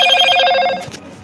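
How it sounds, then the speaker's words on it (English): A mobile phone rings out a notification tone, a bright, loud electronic chime held for under a second before fading quickly. "Ring noise, it's my phone."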